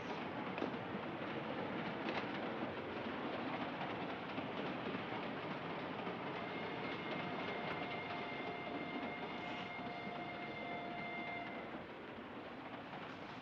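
A train rumbles steadily along the rails, a dense continuous roar with faint tonal squeals rising above it midway through.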